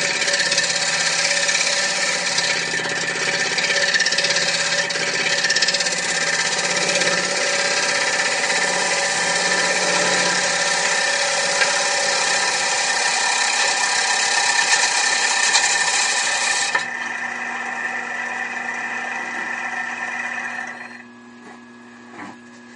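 A steep-ground gouge turns a wooden bowl on a lathe, producing a steady, close, loud scraping whir that runs continuously, drops in level near the end and then fades as the cut stops.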